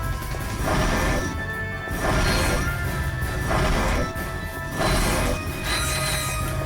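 Continuous held-trigger weapon fire from the handheld game Ratchet & Clank: Size Matters, a loud crunching, smashing burst that pulses in roughly one-second surges, with no talking.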